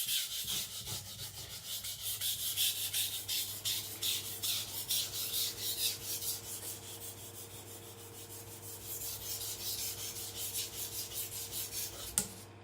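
A blade rubbed back and forth over a soft sharpening stone with light pressure, giving a steady rhythmic rasping scrape of repeated strokes, fairly close and quiet, with no voices.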